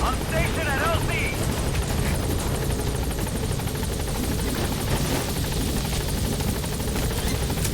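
Helicopter lifting off in the video game Metal Gear Solid V, a steady rotor drone and engine whine holding throughout at constant loudness, with a brief radio-style voice chirp near the start.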